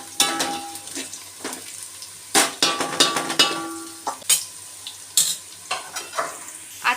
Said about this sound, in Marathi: आपला आता कांदा भाजतोय आता चांगला मस्त खुसखुशीत.